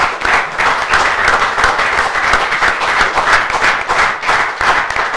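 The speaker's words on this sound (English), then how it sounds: "I think that deserves a round of applause" An audience at a Fremantle Football Club sponsorship announcement breaks into loud, sustained applause, a steady dense patter of many hands clapping with no speech over it.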